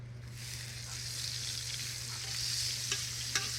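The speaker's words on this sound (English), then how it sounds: "I'm going to add a little bit of butter." Butter sizzling in a hot pan over an open fire outdoors before trout is added, a steady moderate hiss with a low hum beneath and a couple of soft clinks near the end.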